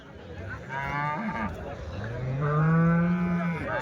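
Cattle mooing loudly, two long, low drawn-out moos one after another, with a faint background murmur, at a weekly cattle market in Chintamani.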